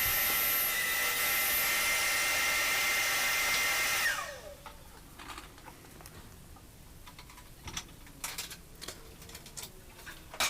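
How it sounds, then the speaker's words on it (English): A hand drill bores one of three holes in a workpiece for homemade woodworking hold-down clamps in a garage shop, a loud steady high whine for about four seconds that then stops abruptly, followed by quiet clicks and small handling taps. "I'll just drill these out. There's only 3. I only got to drill 3 holes."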